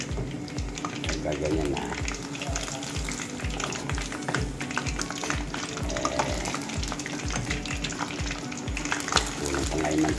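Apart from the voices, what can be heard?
pork leg (pata) deep frying in oil, splattering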